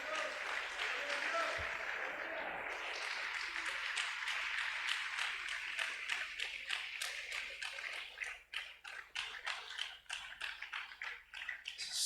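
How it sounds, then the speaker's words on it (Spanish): A church congregation applauds at an evening service, sustained dense clapping that fills the room, then thins into scattered, uneven claps near the end. "Denle un aplauso al Señor esta noche."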